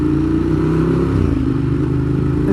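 Loud, close rumble from a 2015 Ducati Monster 1200 with a Termignoni exhaust, a throbbing low engine note with mechanical clatter that holds steady for a couple of seconds, alone without speech.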